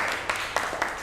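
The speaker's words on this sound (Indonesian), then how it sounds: "Tepuk tangan buat kita semua ya." A classroom group gives a short round of hand clapping, with a few crisp, evenly spaced claps close by over about a second.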